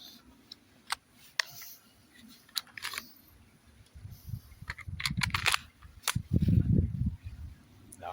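An Umarex Glock 17 Gen 5 pellet pistol fires several sharp, dry snaps at irregular intervals, close by and fairly quiet, with soft handling noise and rustling between the shots.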